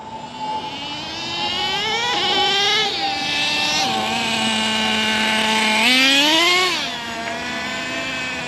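A nitro-powered Traxxas T-Maxx RC truck engine runs loudly and steadily while stationary, its high buzzing pitch rising and falling as the throttle is blipped, heard up close with no talk.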